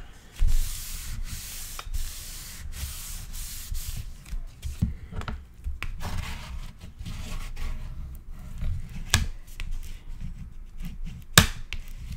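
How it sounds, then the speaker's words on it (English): A tool burnishing a glued paper edge on a handmade scrapbook album makes repeated close, dry rubbing strokes, rising and falling at an even pace with a few sharp scrapes. "Giving this a good burnish"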